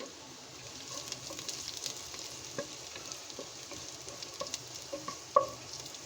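Nigella and cumin seeds sizzling in hot oil for tempering lentils, a soft continuous crackling hiss with scattered small pops and one sharper tap near the end.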